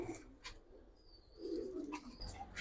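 Giribaz pigeons coo in short, soft, throaty bursts close by, with brief quiet gaps between the calls and a faint chirp now and then.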